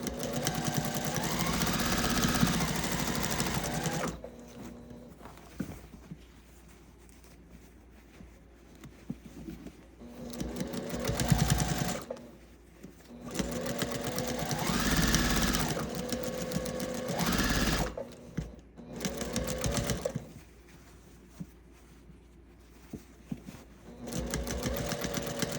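A sewing machine stitches along the top edge of a quilted gift bag, running in long steady whirring stretches broken by short stops, close-up and fairly loud.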